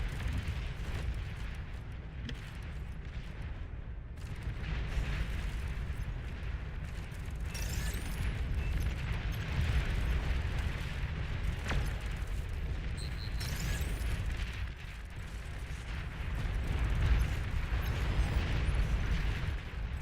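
Rumbling explosions and booms from a Beyond All Reason real-time strategy battle as an enemy commander unit is destroyed, a dense, continuous low roar with scattered bursts and pops, no talk.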